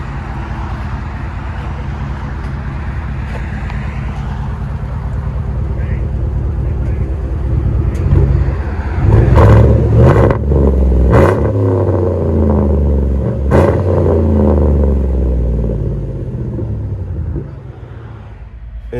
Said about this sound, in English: Inside this 2015 Tahoe, let you guys hear it. Just did a muffler delete.